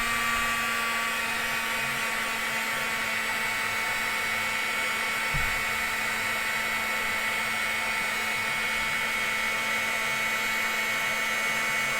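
A heat gun used for embossing on a journal page blows a loud, steady high-pitched whine with a constant airy hiss, running unbroken throughout with a brief bump midway and no talking.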